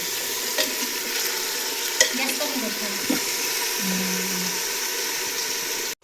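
Village chicken curry sizzles steadily in a pressure cooker pot over a wood-fired stove while a utensil scrapes and stirs it in a few brief strokes.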